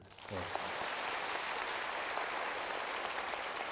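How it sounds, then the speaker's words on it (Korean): Steady, dense applause from a concert audience at a mindfulness healing talk in a hall, continuous and moderately distant, starting just after a brief voice at the opening. "한번 박수 한번 쳐주세요."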